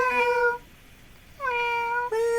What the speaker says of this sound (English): The audience wants to hear you say meow.